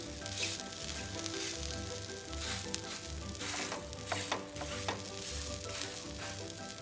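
A tomato rava omelette roasting on its second side while pressed down in a pan, giving a steady close sizzle with occasional scraping clicks and light taps, no talking.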